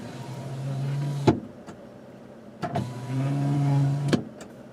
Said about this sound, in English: Next to it is the power rear window.